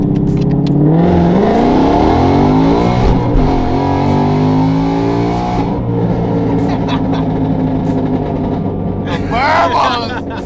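A 900 whp drag car launches off the line, its engine roaring loud and close from inside the cabin with rising revs through gear changes, then settling into a lower drone while people talk over it.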